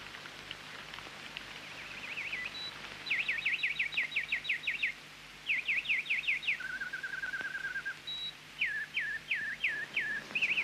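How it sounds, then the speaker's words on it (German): A song thrush sings repeated bright whistled phrases in quick series, several bursts over about ten seconds, set against a steady low hum and soft rain-like hiss. "Es ist keine Nachtigall, sondern eine Singdrossel, lateinisch Turdus musicus genannt."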